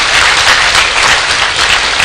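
A large room of guests stands and applauds a dignitary, giving dense, loud, sustained clapping from start to finish.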